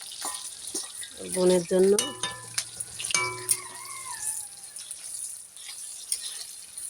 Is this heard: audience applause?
no